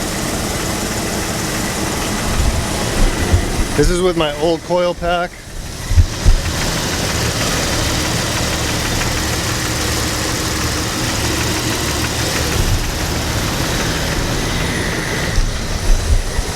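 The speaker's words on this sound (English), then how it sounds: "It's like a knocking sound inside the engine." A car engine with misfire codes runs with an uneven, knocking idle, heard steadily throughout with a clearer burst of rhythmic clatter near the start, while someone talks over it at times.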